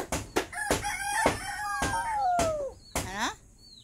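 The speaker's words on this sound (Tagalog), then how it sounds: "Anong sabi ng manok?" A rooster crows loudly and close in a rough, drawn-out call, with sharp clucks and clicks scattered around it and no talk.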